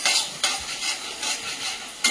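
Steady sizzling of onions frying in a hot pan, with a few sharper bursts as the contents are stirred, no voices.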